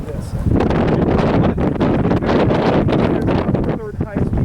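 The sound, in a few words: wind blowing on a ridge line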